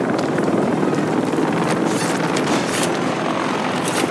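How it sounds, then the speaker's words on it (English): Helicopters arriving in Call of Duty: Modern Warfare 3 during a high-rise battle, a loud, steady broadband rotor and wind-like roar that holds constant throughout with no speech. "More helos inbound."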